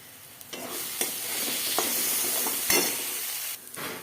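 Spices for a boal fish curry (cumin, coriander, chilli and turmeric powders with a little water and salt) sizzle steadily in a pan, with a spoon scraping and stirring through them in repeated close strokes.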